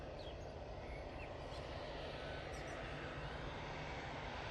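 Ryanair airliner from Malta arriving at Manchester Airport, a faint, steady, distant engine roar under broad background noise with no distinct peaks.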